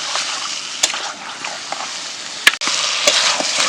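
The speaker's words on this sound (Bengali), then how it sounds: "মাংসগুলো ভালো করে নাড়িয়ে নিয়ে কষিয়ে নিন।" Duck meat with turmeric, chili, cumin and coriander powders being stirred and fried in a pan, a continuous close sizzle broken by sharp spatula scrapes and clacks against the metal.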